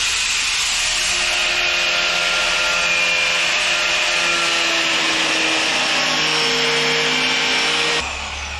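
An old Yamaha RX100 motorcycle mudguard is cut with a power tool, producing a loud, steady grinding whine that runs unbroken for about eight seconds, then drops slightly at the end. No one speaks.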